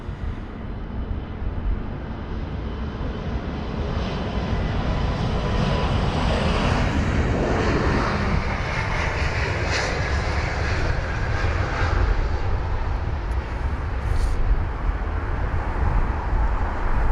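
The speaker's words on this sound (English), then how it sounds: "The Aegean Airlines A321 Neo with the reg Sierra X-ray November Alpha Juliet is the next departure." An Aegean Airlines Airbus A321neo departs runway 27R at London Heathrow, its engines a loud, steady roar that builds and holds as it takes off, with no talk over it.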